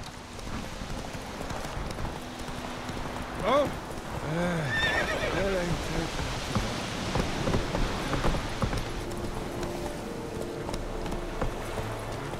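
A horse in The Witcher 3 video game, a loud neigh and clip-clopping hooves over a steady rain-like background, with a voice talking over it.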